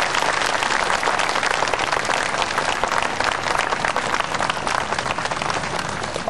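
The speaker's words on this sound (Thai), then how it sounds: "เราขอเสียงปรบมือ ดัง ๆ" A large crowd applauds at an outdoor political gathering in Korat, Thailand, dense sustained clapping filling the whole stretch at strong, even loudness, with no voices standing out.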